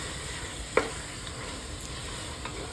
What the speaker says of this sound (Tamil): உப்பு போட்டு தக்காளியை நல்லா வதக்கி விட்டுக்கோங்க.